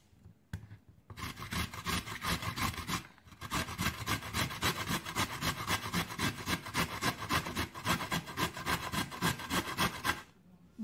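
A peeled root being grated for juice, in quick, even rasping strokes that repeat steadily for several seconds, close-up with brief pauses at the start and end.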